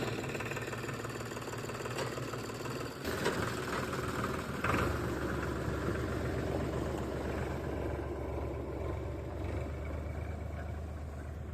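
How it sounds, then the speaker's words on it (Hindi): A farm tractor engine runs steadily near the microphone at a field, a continuous low knocking diesel drone with a brief louder burst and shift around the third and fifth seconds, no talking. "और इससे घूम के ट्रैक्टर लाएंगे"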